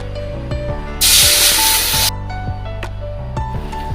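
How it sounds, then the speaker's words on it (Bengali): Water hits a hot kadai (wok) with a loud burst of spraying hiss lasting about a second, set against a steady tonal background with scattered clicks before and after. "তার জন্য আগে কড়াইতে আমি জল দিয়ে দেবো।"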